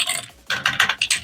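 Clicky keystrokes on an affordable mechanical keyboard with blue switches, a burst of several sharp, close taps in quick irregular rhythm after a brief pause, no talking.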